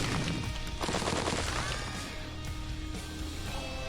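Rapid crashing blasts and bursts of bombs exploding in the video game Binding of Isaac Repentance, loud and dense at first, then thinning into scattered hits over game sound.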